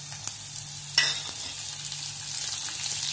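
Green chillies and curry leaves sizzle in hot oil with roasted peanuts for Maharashtrian dadpe pohe. The hiss is soft and steady, with a sharp crackle burst as the leaves hit the pan.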